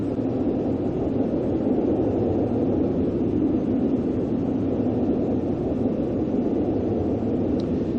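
Cessna Citation S550 business jet engines in the X-Plane flight simulator, a steady broadband rumble and roar that holds at an even level through the whole stretch, with no voice over it.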